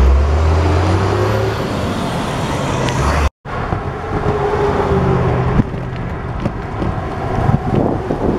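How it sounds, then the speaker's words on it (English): A truck rumbles past outdoors, heard from a bicycle, under steady wind buffeting the microphone, with continuous road noise and a brief cut in the middle. "Truck driving left."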